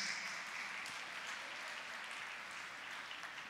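Steady, dense applause from a church congregation fills the space, a continuous wash of clapping with no pauses and no voices standing out.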